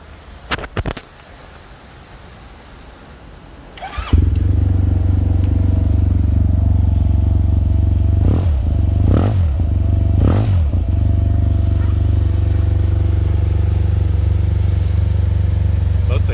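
A 2013 Yamaha TMAX530 scooter fitted with a full Akrapovic exhaust starts up after a few quiet seconds, settles into a deep, loud idle, and is given three quick throttle blips before idling on steadily.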